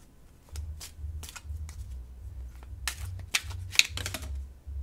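Tarot cards being shuffled by hand, a soft, quiet run of papery riffles and taps in uneven bursts with no talking.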